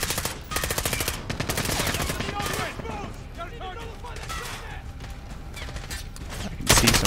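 Rapid machine-gun bursts in Call of Duty: Modern Warfare, loud close rattling volleys at the start, a quieter stretch of scattered shots and voices in the middle, then a final heavy burst near the end.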